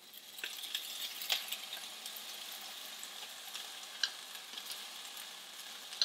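Meat crumbles cooking with crushed tomato and diced roasted garlic tomatoes in a pan, a soft continuous sizzle with a few light clicks of a utensil, quiet and close, no speech.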